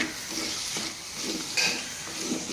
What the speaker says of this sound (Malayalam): ഉപ്പിട്ടിട്ട് നന്നായിട്ടൊന്ന് വഴറ്റിയെടുക്കാം നമുക്കിത്